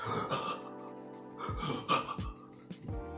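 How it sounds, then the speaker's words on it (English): Heavy, ragged panting breaths come in uneven bursts, close and loud with a hollow echo around them, from the sound design of the film The Terminators (2009). "they're breathing heavily, and it's echoing"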